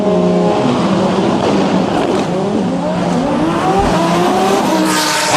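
Audi drag race cars launch hard off the starting line at a drag racing event, with loud engines revving and rising in pitch, plus brief tire squeal throughout.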